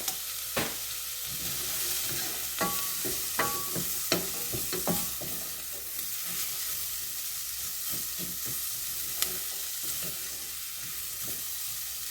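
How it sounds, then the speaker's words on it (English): Onions with paprika gently cooking in a pan for a simple curry: a steady low sizzle throughout, punctuated by scattered clicks and scrapes of stirring, close up with no voice. "And then we're just going to gently cook the onions down."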